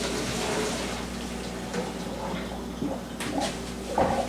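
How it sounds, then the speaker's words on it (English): Cooked peas and carrots are poured from a pot into a kitchen strainer, giving a steady rushing, splashing water sound that runs throughout, ending in a few brighter clatters near the end. "So I'm just going to pour it in a strainer here."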